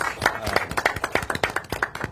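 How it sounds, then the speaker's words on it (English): A few people clap in a steady, sparse rhythm at a school district event celebrating record-high test scores, the individual claps close and distinct, with faint voices behind them. "Another round of applause."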